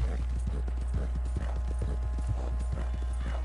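Horse hooves clip-clop steadily in a video game, a close, even trotting rhythm of repeated hoof strikes over a constant low background hum, with faint talk in the background.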